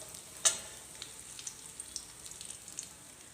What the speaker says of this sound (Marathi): तूप गरम झाल्यावर त्यात काजू बदाम क्रश केलेले टाकूयात आणि चांगले फ्राय होऊन देऊयात।